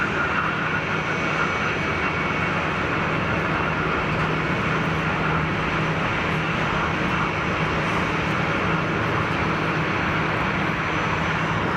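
A Royal Jordanian Airbus A319 at Geneva Airport makes a steady, loud engine roar and broad whoosh that holds without a break from start to finish, with no voices.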